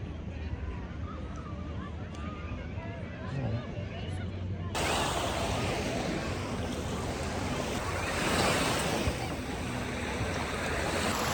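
Surf rolls onto the biggest beach of the Bruce Peninsula on Georgian Bay, a steady wash of breaking waves that turns suddenly louder and broader partway through, with wind buffeting the microphone.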